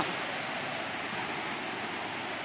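Steady, broad rushing roar of Ton Sai Waterfall in a Thai forest, continuous and fairly loud with no break over the whole stretch.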